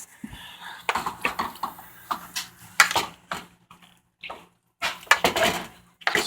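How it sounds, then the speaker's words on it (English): A spoon stirring a pot of tomato Swiss steak sauce: irregular scraping clinks and knocks against the pot in short bursts, with brief pauses between, close and without talk. "Stirring this all up"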